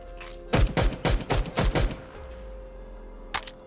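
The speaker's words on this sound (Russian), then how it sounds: "Давайте попробую без глушака издалека помочить их." A rapid burst of about eight unsilenced gunshots fired at zombies in Garry's Mod, loud, sharp and evenly spaced, followed by a pause and one more isolated shot.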